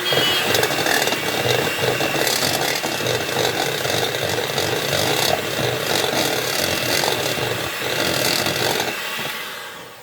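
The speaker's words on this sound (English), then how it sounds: "I'm going to mix this until it's smooth and creamy." Frosting and milk are beaten with an electric mixer until smooth, a loud, steady whirring grind that runs nearly unbroken before tapering off at the end.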